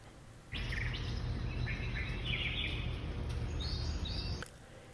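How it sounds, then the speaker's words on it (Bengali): Morning birds calling, several bright chirps and short whistled phrases repeating over a low steady rumble, fairly near, starting and stopping abruptly. "সকালটা অনেক সুন্দর পাখি ডাকছে ভালো লাগছে শুনতে"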